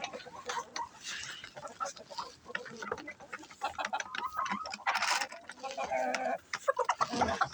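Cockerels cluck and crow softly outdoors during the first snowstorm of the year, faint and intermittent beneath a person talking.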